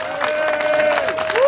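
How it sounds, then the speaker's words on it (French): A protest crowd applauds and cheers at a rally against Operation Wuambushu and the Azali regime: a short, dense burst of clapping with tonal shouts riding over it. "applaudissez pour la CGT"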